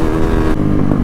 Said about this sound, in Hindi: और गाइस दोनों बाइकों में अपने एग्जॉस्ट लगे हुए हैं